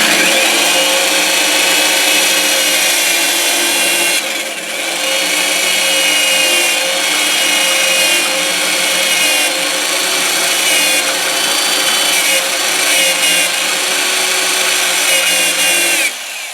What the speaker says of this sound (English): So we have our drill, and we've marked right on the metal where we want to go. So we're going to drill a couple holes.